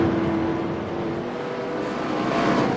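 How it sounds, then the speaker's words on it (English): Steady engine drone of a stock-car-style race car in an online racing sim at Rockingham, running with a flat left rear tire, a continuous loud hum with no voices. "It sounds to me like he's got a flat tire."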